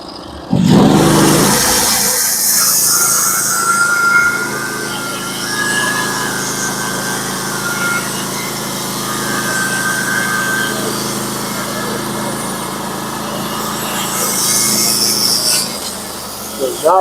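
Norwood HD36v2 sawmill cutting black oak into 8x8 and 6x6 beams, a loud steady band-saw whine and engine drone running through the log after a sharp start, with no talk over it.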